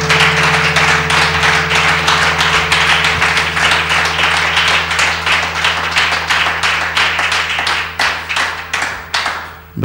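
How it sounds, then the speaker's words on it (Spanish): Church congregation applauding during a Spanish-language service, with many hands clapping in a loud, steady, rhythmic pattern over an amplified hum, tapering into scattered final claps. "Denle un fuerte aplauso al Señor Jesucristo."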